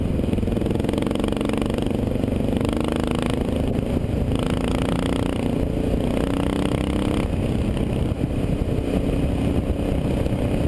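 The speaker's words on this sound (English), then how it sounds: "where these things bog and shudder at low speeds with the stock carb" A Suzuki DR650 motorcycle on its stock carburetor drones steadily at low speed, its engine note bogging and wavering in slow surges under constant road and wind noise, close to the microphone with no talking.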